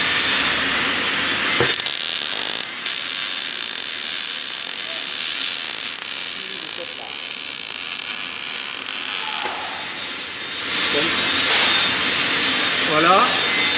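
Arc welding on a steel frame with a steady crackling hiss filling most of the stretch, briefly dropping away near the end before resuming; a person talks over it.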